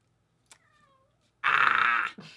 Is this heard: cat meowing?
yes